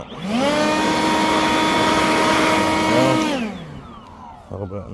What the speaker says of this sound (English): let's take my little blower here. Got a little bit of buildup in here, I think. See if I can blow that